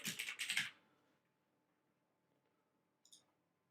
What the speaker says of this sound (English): It's a lot of typing.